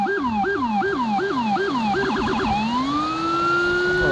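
Police vehicle siren during a pursuit, loud and close, cycling through a repeated whooping wail that speeds into a rapid yelp before settling into a long steady tone, with no talking.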